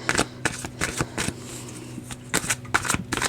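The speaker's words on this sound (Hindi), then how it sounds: "गाइडेंस के लिए हम एक कार्ड शफल करेंगे" Tarot cards are shuffled by hand in repeated quick riffling bursts with short gaps between them, close up and moderately loud, with no talking.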